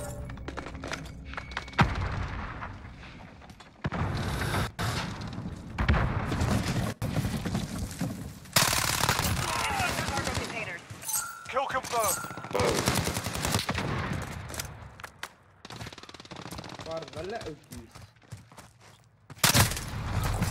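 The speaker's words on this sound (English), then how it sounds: "I'm under fire!" Gunfire in the video game Call of Duty: Warzone, with dense bursts of automatic fire and heavy thuds rolling through a loud, busy firefight.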